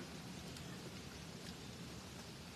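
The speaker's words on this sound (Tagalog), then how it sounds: "Grabe lakas ng ulan ay." Heavy rain pouring steadily, a dense, even hiss of drops with a low rumble, continuous and fairly faint, with no voices over it.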